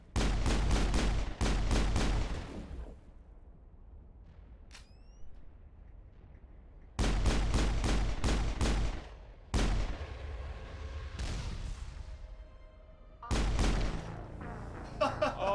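Gunfire from the Mass Effect video game, loud broadband machine-gun bursts in several separate clusters with quieter lulls and some mechanical creaks between them.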